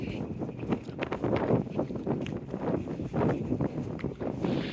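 Strong wind at a river beach during a very high tide, buffeting the microphone in heavy, gusty low rumbles that roll on continuously without pause.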